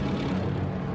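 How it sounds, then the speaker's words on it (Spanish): Wartime aircraft droning overhead in Indochina, a low, steady engine rumble, faint and distant, heard briefly on its own. "Aviones."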